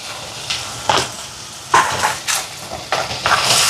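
Spices being stirred and mixed in a pan with coriander seeds and a little salt while cooking peanut chutney, giving soft scraping strokes and light sizzling in several short bursts, with no talking.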